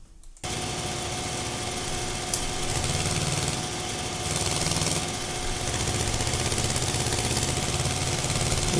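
An Eicher 241 tractor engine runs steadily in Farming Simulator 22, giving a continuous close drone that swells a little in intensity at times, with no talking.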